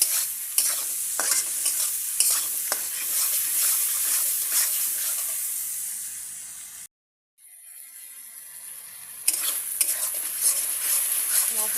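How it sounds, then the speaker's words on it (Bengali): Spice masala with tomatoes and ground cumin fries in a pan, sizzling steadily while a metal spoon repeatedly scrapes and stirs close by. The sizzle runs continuously and drops out for a brief moment partway through. "মশলাটা কষতে থাকবে।"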